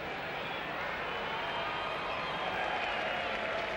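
Subdued, steady applause from a cricket crowd for a batsman's fifty during an ODI between South Africa and England, a distant wash of scattered clapping with no clear peaks.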